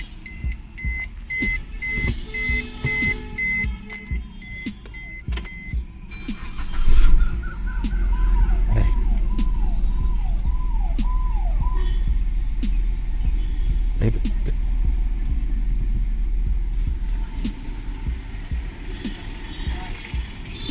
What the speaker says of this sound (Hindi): मैं इसको गाड़ी को स्टार्ट कर लेता हूँ पहले और आपको दिखा देता हूँ कि कैसा परफॉर्मेंस है।